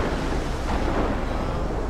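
Thunder rolling through a storm in the Life is Strange video game, a loud, continuous low rumble filling the whole stretch with no distinct breaks.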